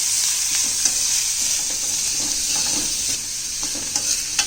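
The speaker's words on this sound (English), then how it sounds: "let's add in chopped onions" Chopped onions sizzle steadily in hot oil in a pan for a spicy gram flour dish, with occasional scrapes and taps of a spoon stirring them, close and continuous with no voices.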